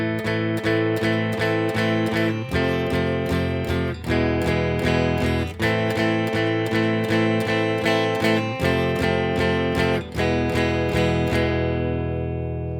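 Guitar strummed through the four-chord progression of a song, steady rhythmic strums ringing continuously and close up, with no voices over it.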